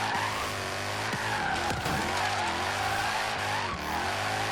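A Mercedes-AMG C63 BiTurbo in the racing game Forza Horizon 3 spins its wheels in third gear, a steady loud engine drone with continuous tire squeal and skidding, no talk.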